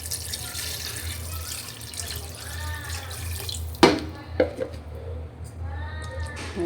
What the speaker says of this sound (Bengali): এখন আমি ঝোলের পানি দিয়ে নেব।